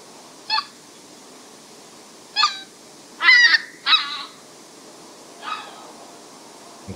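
Goose calls in five bursts over quiet background, some honks split into three distinct parts rather than the two-part call of a Canada goose; loud, spaced honks with a close double burst in the middle.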